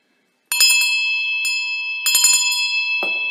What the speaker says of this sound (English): I'm going to try ringing the bell.